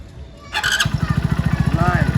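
A motorcycle engine starts and settles into a steady, throbbing idle close by, after a brief moment of talk.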